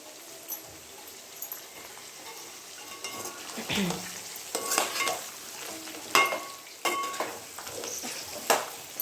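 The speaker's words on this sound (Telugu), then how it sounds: "పచ్చిమిర్చి ఫ్రై చేసి ఫ్రై అయ్యేంత వరకు ఫ్రై చేసుకున్న తర్వాత కారం వేసుకోవాలండి" Green chillies and onions sizzle in a pan while a utensil scrapes and stirs in irregular bursts, a soft frying hiss underneath the clattering strokes.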